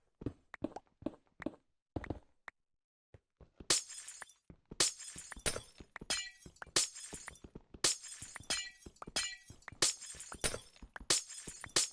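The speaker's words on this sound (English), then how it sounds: "Glass breaking." Glass blocks breaking in Minecraft: sparse tapping and light clicks at first, then a rapid run of bright, close shattering crashes, one after another with short gaps, no voices.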